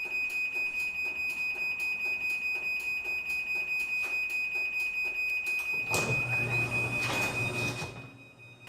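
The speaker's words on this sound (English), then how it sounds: "That warning sound is totally normal and is meant to alert anyone physically present that the door is about to shut." Chamberlain B4643T smart garage door opener sounding a steady run of repeated warning beeps before closing, followed near the end by a louder burst of motor and door movement noise, with no talking.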